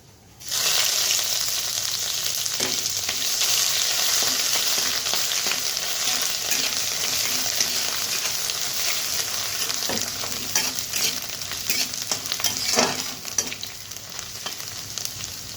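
Five-spice and chopped ginger sizzle loudly in hot oil as a tempering for moong dal with taro, a steady bright crackle running alone throughout with occasional sharper pops and stirring.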